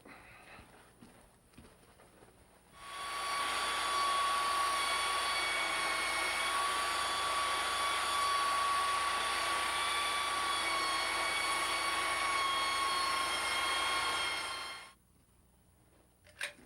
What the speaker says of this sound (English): using a belt sander, we can take this right down to the line